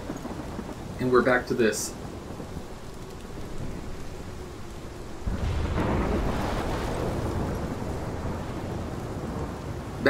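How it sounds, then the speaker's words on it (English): Thunderstorm with steady heavy rain in the video game Life is Strange. A brief voice speaks early on, then the rain hiss builds into a deep, sustained rolling thunder rumble. "This is my storm."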